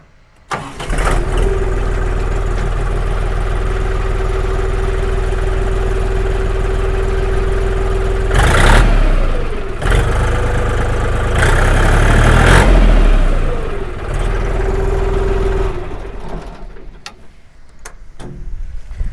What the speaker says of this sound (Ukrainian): Давайте послухаємо роботу двигуна